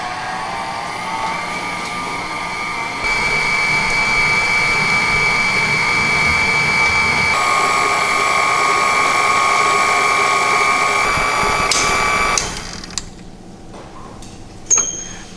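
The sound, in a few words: electric mixer mixing ingredients into crumbs at low speed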